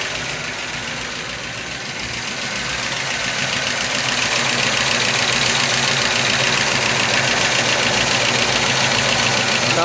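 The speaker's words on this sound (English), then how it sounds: "The distributor is loose and my idle just came down." An old yacht's big-block marine engine with a loose distributor idles with a steady rough rumble and rapid knocking rattle, loud and close, swelling slightly after a few seconds, with no talk.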